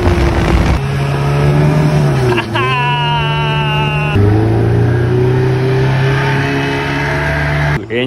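A recently serviced Evinrude outboard engine on a boat on the Muar River runs loudly and steadily, its pitch rising as it revs up, then settling into a constant drone, close by.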